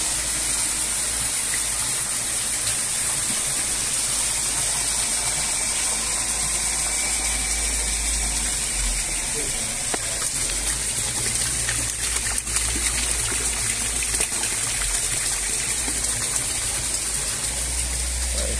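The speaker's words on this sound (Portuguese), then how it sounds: "Ali tem a bomba ali, onde movimenta a água." A water pump moves water at a fish farm pond, giving a continuous rushing gush with a low mechanical hum beneath, steady and fairly close for the whole stretch.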